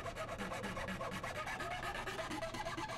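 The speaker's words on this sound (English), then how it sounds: "I used a steel file to clean up the cuts" A steel file rasps along the cut edges of a plastic computer case, producing rapid, rhythmic scraping strokes, close and continuous throughout.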